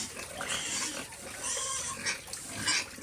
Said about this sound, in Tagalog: Ganyan na po akong mag-alaga ng mga baboy mga kaboy.